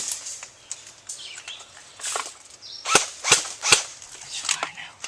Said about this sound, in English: At first his gun wasn't shooting, but he fixed it. It works now.